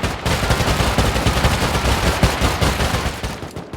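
Loud, dense automatic gunfire in the survival game Rust, rapid rounds fired close up in a continuous barrage with no break.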